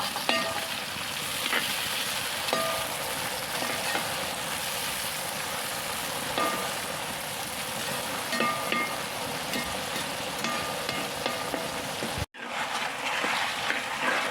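Jackfruit pieces fry in hot oil while salt and turmeric water is sprinkled in, giving a continuous loud sizzle with bubbling crackles, briefly cut off near the end before resuming.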